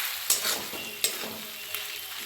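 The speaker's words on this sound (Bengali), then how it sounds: "এরকমভাবে টক দইকে আমি সমস্ত মশলার সাথে 2-3 মিনিট কষিয়ে নেব।" Sour yogurt cooking down with spices in a pan for Bengali prawn pulao, a continuous bright sizzle broken by three sharp spoon scrapes, close and alone.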